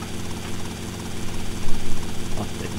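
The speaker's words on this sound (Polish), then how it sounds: "Polecimy sobie od razu helikopterem." A helicopter flies in GTA Vice City, producing a loud, steady rotor and engine drone that swells slightly midway, with no talk over it.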